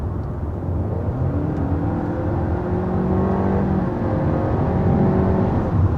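A 2022 Honda Civic Hatchback with a CVT accelerating hard with simulated shifts, a steady, loud engine drone rising in pitch heard from inside the cabin, with no talking.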